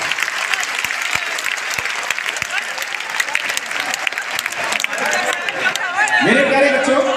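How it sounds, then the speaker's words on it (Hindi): Loud audience applause welcoming guests at a Patna student meetup, dense crowd clapping close by, with cheering and a voice rising over it near the end. "एक बार जोरदार तालियों से"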